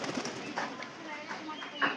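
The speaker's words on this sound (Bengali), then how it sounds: "উপরে দেখেন এই পায়রাটা আছে না, পায়রাটা ডাকতেছে।" A pigeon perched overhead coos in soft, repeated throaty notes, close and fairly clear, with a person's voice faintly underneath.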